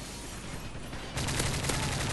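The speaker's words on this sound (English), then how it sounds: "I could hear him shoot my friends" Gunfire in Modern Warfare 3 on the Terminal map starts as a quieter volley, then jumps into a louder, denser burst of rapid shots partway through.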